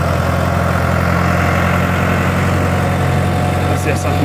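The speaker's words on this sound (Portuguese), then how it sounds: "é por causa do barulho aqui do trator aqui" A tractor engine idles steadily and close by, a loud low drone with constant vibration and a faint rattle near the end, running alone without talk.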